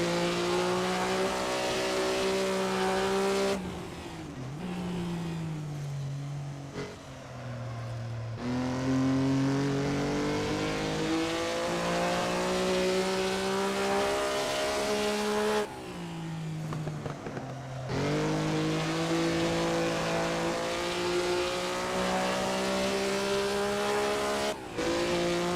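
A 1950s 250F Grand Prix race car engine in a racing game at Bremgarten, droning loudly and continuously as it revs up through the gears, with sharp drops on downshifts and occasional tire squeal through corners.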